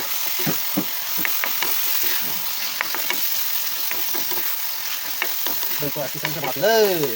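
Dried fish frying and sizzling in a pan, a continuous crackle with scattered pops, stirring scrapes and knocks, and a brief tonal squeak near the end.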